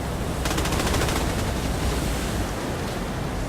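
Automatic gunfire in the shooter game Tom Clancy's The Division 2 during a sandstorm, a rapid rattling burst roughly in the first second and a half over a loud, constant roar of wind and sand noise.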